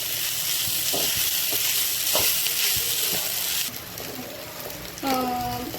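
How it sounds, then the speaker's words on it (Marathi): Sabudana (tapioca pearls) and salt stirred together in a hot pan: a steady sizzling hiss with a few soft spatula scrapes and knocks, close by, and a brief clink near the end. "मीठ टाकल्यानंतर एकजीव करून घ्यायचं. चांगलं खालीवरी करून पचवून घ्यायचं."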